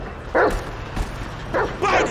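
A dog in the video game GTA V gives three short, loud barks close by, the last two near together, over steady background game noise.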